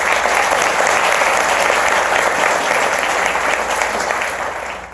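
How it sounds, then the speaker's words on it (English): Loud, dense applause fills a writers' conference hall, sustained and even throughout before beginning to taper off at the end. "Please give them a hearty round of applause."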